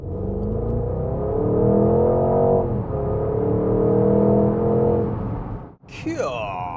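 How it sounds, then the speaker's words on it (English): A 2025 Porsche Cayenne GTS V8 engine roars and revs steadily for several seconds, rising in pitch, then cuts off abruptly before a brief burst of higher noise. "This is the all-new Porsche Cayenne GTS and it sounds like this."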